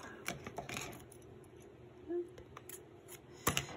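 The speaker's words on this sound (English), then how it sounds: "Trim your threads" Scissors snip loose threads off a freshly sewn fabric ruffle for a journal page, giving several close, crisp cuts at irregular intervals with light handling rustle between them.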